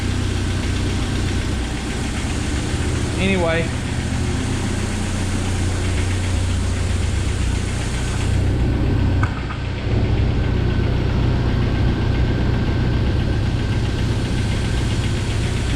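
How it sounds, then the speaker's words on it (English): A 1997 Jeep Wrangler 2.5L four-cylinder idles steadily with a loud, continuous engine drone and a fast ticking from the valve lifters. A brief, faint voice comes in at one point. "I still hear some lifter noise"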